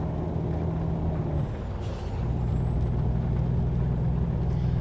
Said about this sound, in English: listening to the sound of this truck